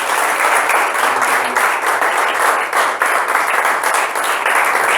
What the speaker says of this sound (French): Est-ce que tu peux acclamer pour le Seigneur Dieu de gloire?